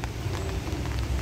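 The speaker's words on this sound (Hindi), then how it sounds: "बारिश हो रही है अच्छी खासी" Heavy rain falls in a steady, dense hiss with a low rumble underneath, continuous and fairly close.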